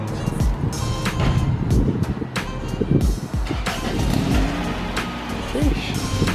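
A DB1 Acura Integra with a new exhaust rumbles and revs in uneven bursts close by, with background noise and some voices mixed in.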